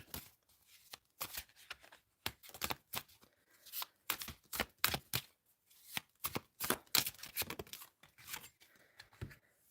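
Tarot cards being shuffled by hand for a Capricorn reading, a steady run of crisp riffling and slapping bursts repeating closely for the full stretch, near and moderately loud with no talking.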